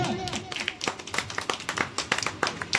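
A small home audience at a Janmashtami puja celebration claps for a prize winner, a brief burst of uneven hand claps mixed with voices.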